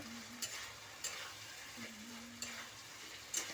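Onion, ginger and garlic spice paste frying in a pan for ghugni, heard as a faint, steady sizzle broken by four or five spaced spatula scrapes against the pan.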